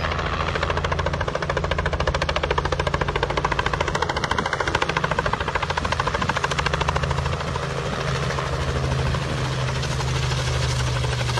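A helicopter drones steadily nearby, its rotor chopping in a fast, even pulse with a low engine rumble throughout.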